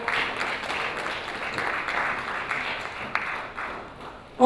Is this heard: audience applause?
yes